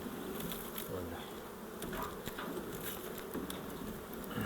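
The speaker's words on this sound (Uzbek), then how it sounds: "arilarni yana bir bor o'ziga yaxshiroq qoqaman." Honeybees buzzing around a hive while frames are being worked, a dense steady drone of many bees close by with light tapping and handling sounds.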